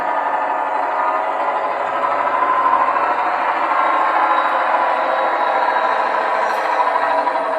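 A Class 34 GM diesel locomotive with a two-stroke V16 EMD 645 engine idles in a train simulator game, a steady, droning engine rumble that holds even and loud throughout with no speech.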